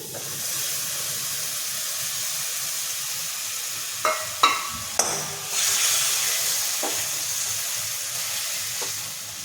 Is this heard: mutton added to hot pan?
yes